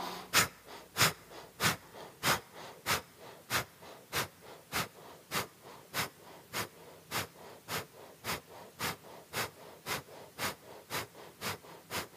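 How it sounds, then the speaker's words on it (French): Kapalabhati yoga breathing: a steady series of about two dozen sharp, forceful nasal exhalations, evenly spaced roughly every half second, close and clear against a quiet room with no talking. "Retrouvons Kapalabhati."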